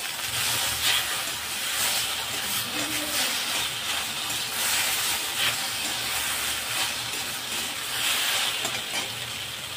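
Okra tossed with black cumin and spices in a hot pan, a continuous close sizzle and hiss with faint scraping stirs, steady and fairly loud without voices.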